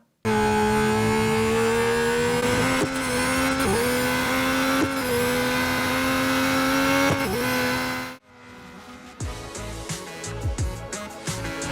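Race car engine in Real Racing 3 on the Monaco circuit, loud and close, revving steadily through rising gear pulls with brief shift dips, then cutting to a rougher, quieter burst of engine noise near the end.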